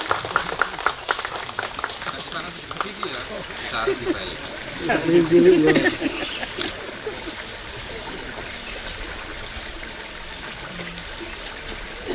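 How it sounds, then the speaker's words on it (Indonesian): An assembled crowd of men and women claps at an outdoor fish-seed release event in East Java. The dense patter of hands is strongest at the start and fades under ongoing talk and a steady watery background. "Beri tepuk tangan ibu-ibu, bapak-bapak semuanya yang ada di sini"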